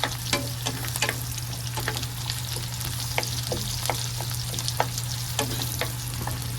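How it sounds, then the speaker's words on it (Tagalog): Onions sauté in hot oil for ginataang kalabasa, giving a steady close sizzle with frequent crackles and pops and an occasional stir, and no voices. "Lutuin na natin ang kunting sibuyas, saka natin idagdag yung kamatis ha."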